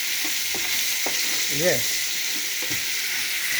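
Seasoning sizzles and fries steadily in a pan for Jamaican ackee and saltfish, a close continuous crackle while a voice speaks briefly.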